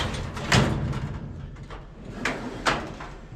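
A toolbox drawer being slid in, giving a couple of short sliding scrapes and knocks with a quieter shuffle between them, close by with no talk.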